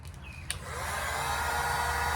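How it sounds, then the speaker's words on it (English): A heat gun blowing a steady, broad airy roar that builds up after a brief click, used to heat clear plastic tubing for a homemade UTV boom sprayer. "So I'm just going to take my heat gun here"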